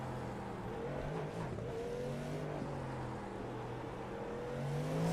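GT3 and IMSA race car engines in the iRacing sim drone continuously at close range, the revs rising and falling as the cars run together in traffic, with no talk over them.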